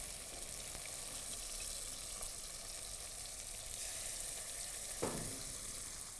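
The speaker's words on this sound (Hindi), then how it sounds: "ये हमारा जो दही का मिश्रण था वो डाल दिया मैंने।" Curd mixture poured into a hot kadhai for kadhai paneer, a soft continuous sizzle and frying hiss with faint stirring clinks and one brief scrape near the end.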